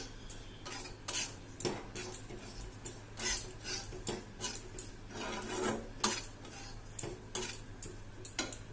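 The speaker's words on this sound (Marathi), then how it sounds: "खोबरं पण भाजून झालेलं हे बघा आणि सतत हलवायचं म्हणजे सर्व बाजूनं छान भाजत ते" Grated coconut is dry-roasted in a pan and stirred constantly, producing a quick, irregular run of close scraping and clinking strokes against the metal with no sizzle beneath.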